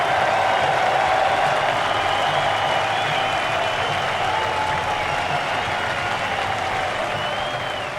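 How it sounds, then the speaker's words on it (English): Baseball fans at Camden Yards during a Baltimore Orioles game roar and clap in a sustained, even wall of crowd noise that gently fades toward the end. "What a day here at Camden Yards,"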